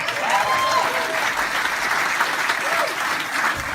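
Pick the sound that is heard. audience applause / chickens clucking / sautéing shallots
audience applause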